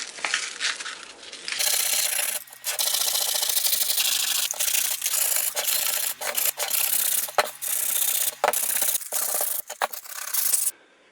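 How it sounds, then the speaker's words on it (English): A wooden box is sanded by hand to remove burn marks, a close, continuous, loud abrasive rubbing in long sustained strokes with a few brief pauses. "I'm going to try to sand that off."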